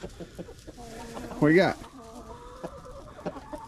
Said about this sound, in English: Good morning, big chickens.